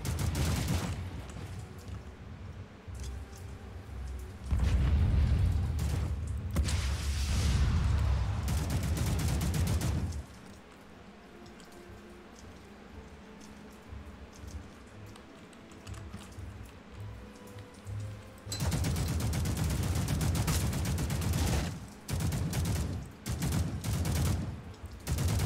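Video game gunfire in loud, dense bursts of rapid shots that start and stop, with a quieter lull in the middle and clicking between volleys.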